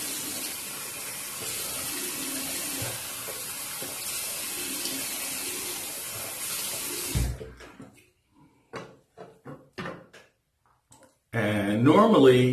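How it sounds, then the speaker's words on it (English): A Merkur 37C slant safety razor is rinsed under a running bathroom tap, with a steady rush of water for about seven seconds, then small clicks and taps of the razor against the sink as a voice speaks briefly. "We'll give this a quick rinse."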